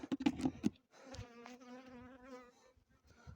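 A bee buzzes close by at a rock-cliff honey hive during a difficult honey cut, a steady droning whine lasting over a second after a few sharp knocks.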